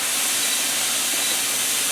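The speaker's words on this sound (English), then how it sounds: "bring this up to it until it's spouting a steady stream of steam" A pressure canner full of turkey broth vents a steady, loud stream of steam, a constant broadband hiss with no break or change in level.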